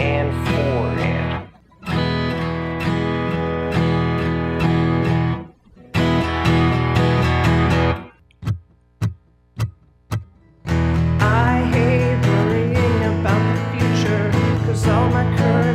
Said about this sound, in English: So I'll strum a little bit softer and stay on the lower end of the strings on the ands.